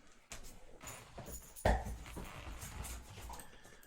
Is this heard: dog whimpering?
yes